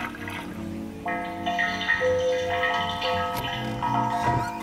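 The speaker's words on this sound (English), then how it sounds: "get some water, pour it in here" Water pours into a stone basin at a Japanese temple in Ashikaga, a continuous splashing trickle that holds steady and close for a few seconds.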